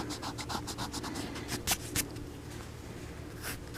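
Erasing part of a figure drawing on paper gives a run of quick rhythmic scrubbing strokes, close and fairly loud, followed by a couple of sharper rubs and then lighter scratching, with no voice.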